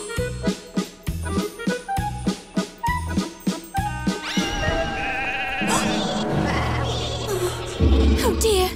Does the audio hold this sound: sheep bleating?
yes